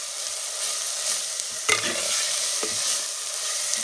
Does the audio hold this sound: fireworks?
no